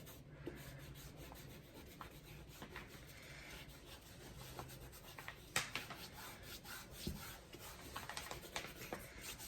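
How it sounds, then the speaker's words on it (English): Eraser rubbing out leftover carbon transfer lines on a landscape painting on watercolor canvas, a soft, close scratchy scrubbing in short irregular strokes, faint and without speech. "I'm going to take a eraser, and I'm just going to simply erase any of the carbon line that's still there"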